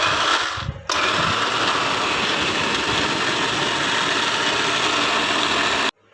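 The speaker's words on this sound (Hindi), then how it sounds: "हमने चंद सेकंड ही ब्लेंडर को चलाया है और ये आप देख सकते हैं मक्खन और पानी अलग हो गया।" A kitchen blender churns cream with cold fridge water into butter, producing a loud, steady grinding motor whir that dips briefly near the start and then cuts off abruptly at the end.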